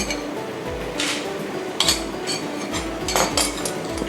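Utensils clink and scrape in a bowl while Thai sauce ingredients are mixed: coriander root, chopped garlic, light soy sauce and sesame oil. Irregular metallic taps and stirring strokes sound up close.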